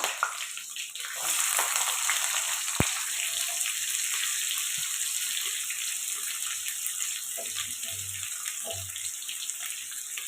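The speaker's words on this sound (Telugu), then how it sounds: "ఆనియన్స్ బాగా ఫ్రై అవ్వాలండి ఆయిల్లో ఫ్రై అయిపోవాలి బాగా ఇలా ఫ్రై అవుతుంది కదండి" Onions and green chillies fry in hot oil for a homemade chicken biryani, giving a steady, close sizzle that hisses on without a break, with a few soft clinks partway through.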